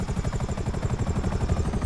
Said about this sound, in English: Hey, they got some attack choppers on me.